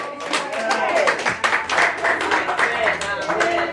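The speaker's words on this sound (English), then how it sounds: "Clap for our visitors, please" Church congregation clapping for visitors during a gospel Sunday service, a dense steady patter of many hands with voices and speech mixed in throughout.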